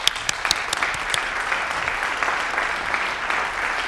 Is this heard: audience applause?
yes